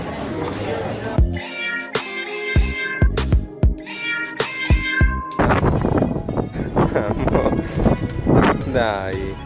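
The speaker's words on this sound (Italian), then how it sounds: "Lui è il micio guardiano del negozio." A shop's guardian cat on the island of Mykonos meows repeatedly at close range, several distinct cries mixed with people talking nearby and light background bustle.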